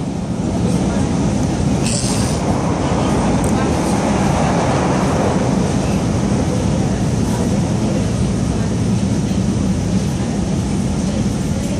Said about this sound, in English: We are on a train, so we're on a train